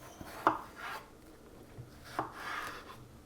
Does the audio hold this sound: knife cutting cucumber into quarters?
yes